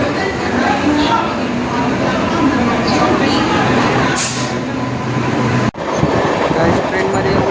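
At a busy railway station platform, a train rumbles and clatters steadily nearby, a loud, continuous rolling noise with a brief sharp break near the end.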